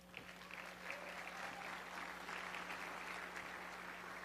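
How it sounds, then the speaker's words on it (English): An audience at a virtual reality conference gives a warm round of applause, an even wash of many hands clapping at moderate distance over a steady low hum. "Let's give him a warm round of applause."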